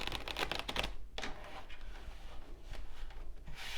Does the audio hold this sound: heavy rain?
no